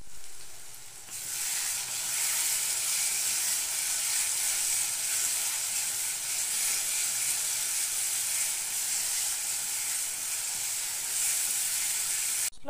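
Cumin and turmeric powder masala fries in hot oil, a loud, continuous close-up sizzle with a rough hissing texture that stays steady for the whole stretch with faint stirring beneath.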